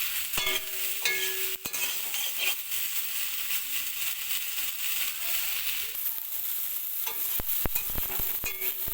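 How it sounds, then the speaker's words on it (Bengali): Soybean chunks sizzle and crackle in hot oil while a spatula stirs and scrapes the pan, with sharp clinks near the end. "এর মধ্যে এবার আমি সয়াবিনগুলো দিয়ে হালকা ভেজে নেব"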